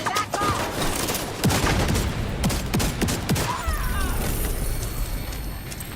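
Weapon fire in The Division 2 during a Hunter's Fury headshot combo: a loud burst of sharp, closely spaced shots with sporadic heavier cracks, easing off toward the end, without speech.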